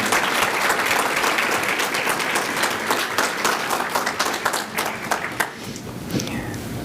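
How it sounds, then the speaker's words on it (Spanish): Loud, dense applause from an audience at a Mexican university forum with a presidential candidate, many hands clapping continuously at close range before thinning slightly toward the end. "Un fuerte aplauso para ella y para él."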